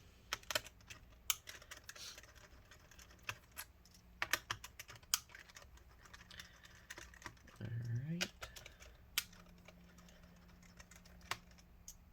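Bottom case screws come out of a Lenovo IdeaPad 510-15ISK laptop with small, scattered clicks and taps from a screwdriver and the screws, faint and close. A brief low voice is heard partway through.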